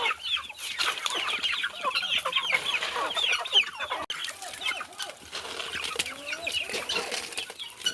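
Chickens clucking on a farm in Pernambuco, with guinea fowl nearby, make a busy, continuous chorus of close clucks and chatter, with occasional wing flutters and no talk.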